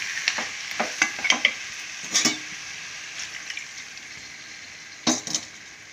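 Mutton masala fries in a pan as water goes in: a close, steady broadband sizzle with several sharp stirring clinks and surges of hiss, and no voices.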